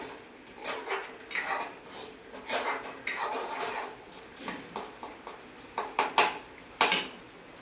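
A metal spoon stirs and sautés masala in oil in a pan, giving repeated scraping strokes in an uneven rhythm that grow sharper toward the end, close by with no voices.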